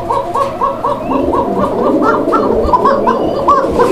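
Pigeons kept for sale at a market cooing in a dense, rhythmic chorus of repeated low coos, loud and close, overlapping continuously.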